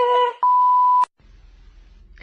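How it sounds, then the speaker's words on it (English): Two quick electronic beeps, a short one then a longer steady tone, loud and close, followed by faint low hum. "Leave a message after the beep."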